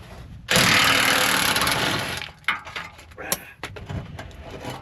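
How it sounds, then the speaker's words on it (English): A car jack lifts a 7.3 diesel truck from under the rear axle, giving a loud grinding, ratcheting run followed by several sharp clicks and clanks of metal. "I'm going to bring the jack over here. You could come in here with the jack. Right now I got it under the rear axle."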